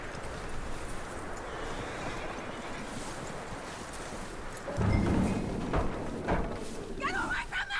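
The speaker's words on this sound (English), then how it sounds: "That looks like a decent horse." In Red Dead Redemption 2, a horse's hooves and snorts sit under a continuous rustling outdoor ambience, with louder close movement and a short whinny-like cry near the end.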